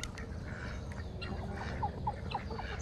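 Geese and other poultry call in a farmyard, with a few short honking calls standing out over a steady low rumble of background noise.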